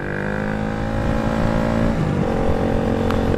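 KTM Duke 200 naked motorcycle ridden around town, its single-cylinder engine droning steadily with rising and falling pitch as the throttle shifts, loud and close with no talk.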